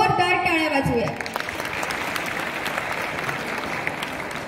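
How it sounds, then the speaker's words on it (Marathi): An audience applauds child singers at a devotional cultural program, with broad steady clapping that follows the tail of a sung or spoken phrase and then continues evenly at moderate loudness. "या बालगायकांसाठी एकदा जोरदार टाळ्या वाजवूया"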